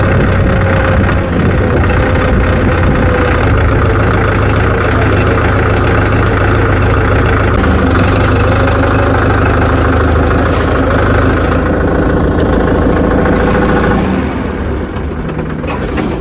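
A tractor's low-vibration diesel engine idles loud and close in a steady, knocking rumble that runs unbroken for about fourteen seconds, then eases off slightly, with no talking.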